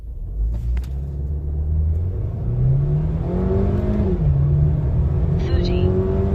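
An MG HS SUV accelerates in a 0 to 100 run, its engine rumble rising steadily in pitch through a gear change, heard from inside the car with faint background noise.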